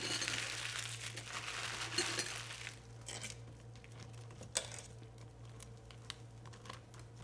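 Store-bought ramen packets torn open one by one, close crinkling and rustling of plastic wrappers with a few sharp tearing snaps, alone without talk.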